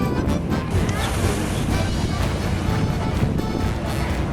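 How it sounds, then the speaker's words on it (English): Steady broadband wash of water and wind aboard a cruise boat on the Rhine River on a sunny, breezy day, with constant churning and rushing noise close to the microphone and no talking. "It is absolutely a perfect day to take a Rhine River cruise"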